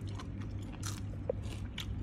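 Faint, close crunching and biting of crisp food, papaya salad with fermented fish, in a few short bites over a quiet room hum.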